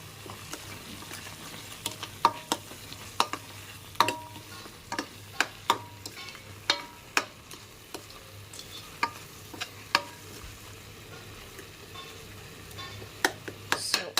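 Egg curry masala with salt and chilli powder being stirred in a pan, with sharp spatula taps and scrapes at an irregular rhythm over a quiet low sizzle, close and fairly soft, no talking.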